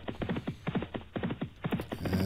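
Horses galloping at the Velka Pardubicka steeplechase, hoofbeats thudding in quick, steady clusters, close and clear with no talk over them.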